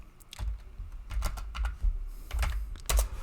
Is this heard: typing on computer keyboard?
yes